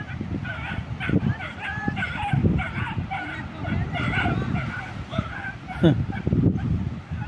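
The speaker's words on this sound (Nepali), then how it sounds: "कुकुरलाई कुदाउँदैछ त्यो कुकुरलाई, यो कुकुरले।" A dog barks and yips repeatedly in quick bursts while chasing another dog, with whimpering, at Caesarea Maritima, Israel, while people talk nearby throughout.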